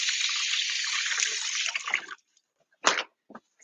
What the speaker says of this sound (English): I'm actually gonna just toss that, wash my hands